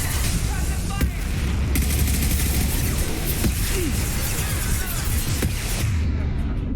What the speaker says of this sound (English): We got somebody with way too many rockets.